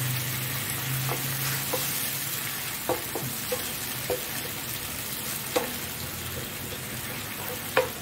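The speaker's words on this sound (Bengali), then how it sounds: "এখন 1 মিনিট পেঁয়াজটা ভেজে আমি এখানে দিয়ে দিচ্ছি কাঁকরোল" Onion frying in a pan on a medium flame, a steady close sizzle broken by a few soft stirring clicks and scrapes, with no talking.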